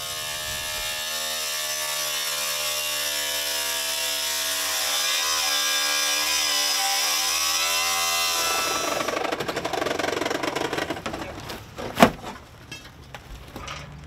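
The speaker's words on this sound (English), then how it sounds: "So we're gonna cut this side panel out to get access to the patient in the sleeper." Battery-powered saws, a K-saw and a sawzall, cut through a truck sleeper side panel in a heavy extrication drill. A loud, buzzing motor whine runs steadily, then gives way to harsh cutting noise and a sharp bang.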